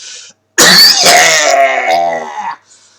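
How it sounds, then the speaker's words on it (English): A single long, loud, harsh cough bursts out close to the microphone and rasps on for about two seconds before trailing off, with no talk. "I think I just coughed up a lung."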